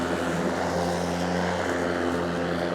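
Ryobi 40V cross-cut cordless lawn mower motor humming steadily with a droning, propeller-like whine, close and constant throughout, no speech.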